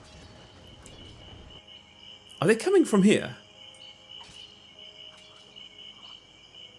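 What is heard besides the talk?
crickets ambient sound in video game SpellForce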